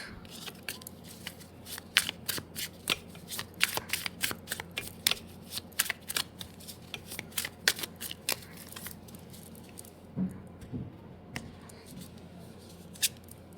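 Tarot cards being shuffled close up, a steady run of crisp riffling flicks and soft slaps that repeat quickly, then thin out toward the end, with no talking over it.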